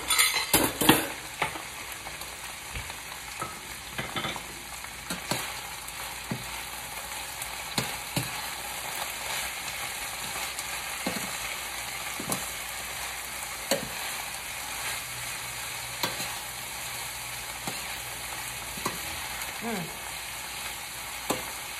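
Onions caramelize in a hot pan with a steady, soft sizzle, punctuated by scattered clicks and scrapes of stirring throughout.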